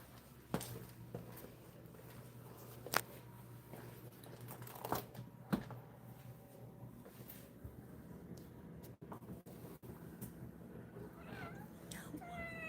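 A house cat meowing indoors, a few short faint meows scattered among rustling and shuffling noises against a low steady hum.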